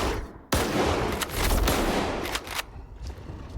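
Shotgun fire in the video game S.T.A.L.K.E.R. 2, several loud close blasts in quick succession, each ringing out into a broad noisy tail, with no talk.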